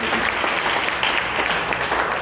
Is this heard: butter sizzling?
no